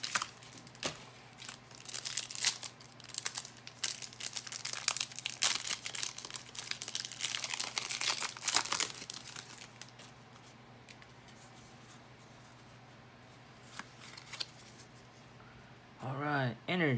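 A Pokemon Sword & Shield booster pack is torn open, with close crinkling and tearing of the foil wrapper for several seconds, then quieter handling, and a voice speaking briefly near the end.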